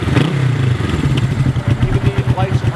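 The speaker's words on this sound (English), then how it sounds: "Listen to the exhaust note on this beauty. This thing just purrs at 800 RPM." 1968 Honda CB450K1 motorcycle, close and loud, its exhaust burbling in a rapid, pulsing rhythm with clattery mechanical texture as the engine is blipped.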